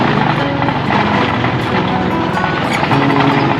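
A motorcycle with a clutch rides along a rough, potholed mountain road near Santa Barbara Dam in Iba, Zambales. The engine drones steadily and loudly, mixed with rumbling wind noise across the whole stretch.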